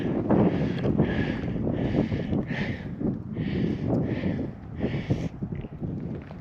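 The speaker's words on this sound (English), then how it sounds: "Here comes that wind." Gusty wind buffets the microphone on a desert trail at Red Rock Canyon, a steady loud rumble with rhythmic bursts of rustling hiss rising and falling through the whole stretch.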